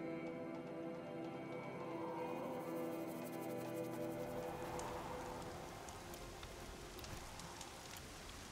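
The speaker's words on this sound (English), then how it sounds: "It's raining." Rain falls steadily onto a surface, a constant hiss with scattered drop patter, fairly quiet and even throughout with no one speaking.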